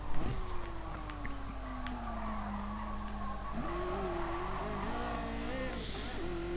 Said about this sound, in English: The Ferrari F40 loves to race, you can tell.